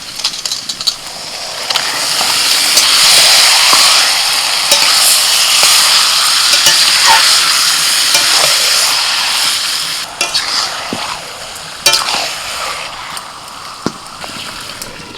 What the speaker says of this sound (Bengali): এবার দিয়ে দিচ্ছি ম্যারিনেট করা চিকেন